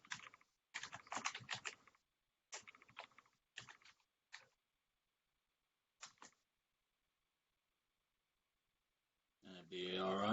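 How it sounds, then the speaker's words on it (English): Typing on a computer keyboard during a Windows Server 2019 install: several bursts of rapid, close keystroke clicks separated by silent pauses, ending with a louder noisy rush. "It'd be alright if I was typing in the window that I wanted to be typing in."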